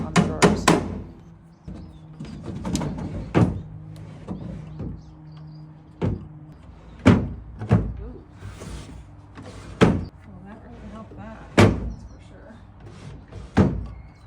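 Wooden drawers of a mid-century modern dresser fitted with nail-in plastic drawer glides being slid shut repeatedly, giving sharp, close thunks and bumps at irregular intervals, with a person talking between the closings.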